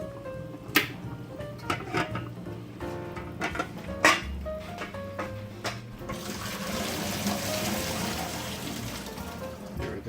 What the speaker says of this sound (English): Now we're going to drain our noodles.